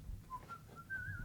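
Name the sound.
person whistling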